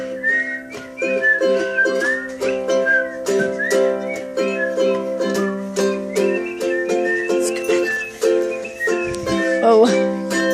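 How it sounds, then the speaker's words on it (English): A person whistles a bright, lilting melody alone, the notes rising and falling in a steady rhythm with short breaths between phrases, close and clear. "start with the whistle"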